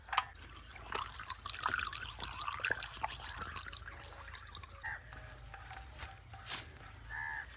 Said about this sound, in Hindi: इसके अंदर पानी डालना है, पानी डालते हैं और उसके बाद ऑन करते हैं जी मोटर को